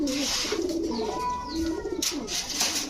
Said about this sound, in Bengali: এখন দেখাবো 1 জোড়া চিলা কবুতর